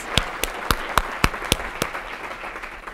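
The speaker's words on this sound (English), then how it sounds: "Let's give them another great round of applause." Audience at an education convening applauding panelists, a thin round of distinct individual claps at an even beat that thins out and fades over a few seconds.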